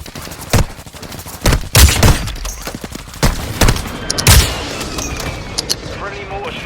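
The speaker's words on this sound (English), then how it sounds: "Enemy precision airstrike." Explosions from an enemy airstrike mix with bursts of gunfire in the Warzone Mobile shooter game, heavy booms and rattling shots punching through loudly, with in-game voice callouts underneath.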